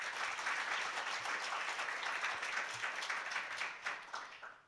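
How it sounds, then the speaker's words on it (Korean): A crowd applauds steadily for several seconds, a dense patter of many hands that thins out toward the end, for guests at an open-source software day awards ceremony. "모든 귀빈 여러분께 다시 한번 감사의 박수 부탁드립니다."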